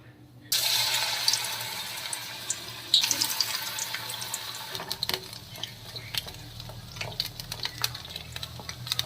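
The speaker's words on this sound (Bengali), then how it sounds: "তো তেল গরম হয়ে গেছে তো এবার আমি একটা একটা করে এই যে এরকম বন্ধুরা আমি পকোড়া শেপটা এরকমভাবে নিচ্ছি এই যে এবার আমি তেলে একটা করে ছেড়ে দেবো" Cabbage pakoras slide into hot oil one after another, setting off a strong bubbling sizzle that keeps crackling and hissing steadily in a kitchen, with no talking.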